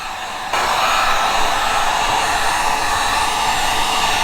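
A heat gun switches on and blows a loud, steady roar of hot air across a freshly coated car part, with a faint hiss before it starts and a constant blast after, no voices.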